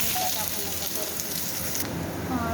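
Garlic, cumin and onion dropped into very hot oil, a steady dense sizzle and crackle throughout, close and continuous, with faint talk underneath.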